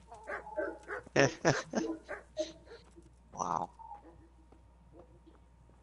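Dogs bark in a medieval village in the role-playing game Kingdom Come: Deliverance, a run of close, sharp yaps and whimpers followed by a single louder bark, with someone briefly speaking.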